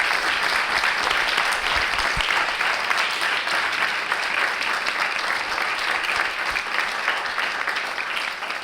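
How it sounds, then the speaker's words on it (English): An audience at a talk on providing healthcare in Gaza applauds for Willy Massay, a dense, steady wash of clapping that holds evenly for the whole stretch with no voices over it. "Everyone please give a big round of applause for Willy Massay."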